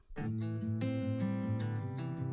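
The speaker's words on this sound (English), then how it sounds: "with the acoustic guitar, on the verse it sounds like this" Acoustic guitar strums through a country-style verse, entering after a short silence and ringing on steadily at moderate level inside a full mix, with no talking.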